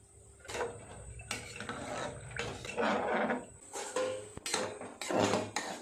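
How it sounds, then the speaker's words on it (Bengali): A spatula stirs pasta in a pressure cooker, producing irregular scraping and clattering metal knocks over a soft background of water and cooking noise, fairly close and without talk. "একটুখানি খুন্তিটা দিয়ে একটু নেড়ে দাও"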